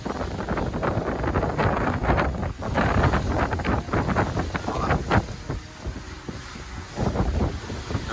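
Strong wind buffets a small boat crossing the open sea between Cabo Frio and Búzios, with gusty, close microphone roar and choppy water slaps and swells running continuously and fairly loud throughout.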